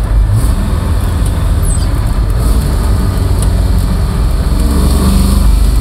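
A 1969 Chevrolet Camaro SS V8 drives at about 45 mph after a downshift, a steady, loud low rumble with road and wind roar throughout and no voices.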